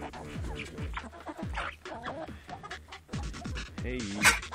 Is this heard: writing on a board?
no